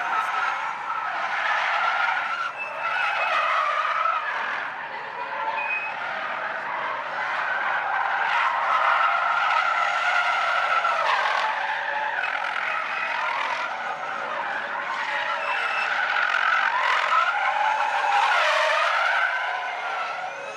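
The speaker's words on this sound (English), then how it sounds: "All you hear is the squealing of the tires, right?" Electric vehicle burnouts with continuous high-pitched tire squeal and skidding, loud and sustained with swelling and easing intensity, outdoors at a car show.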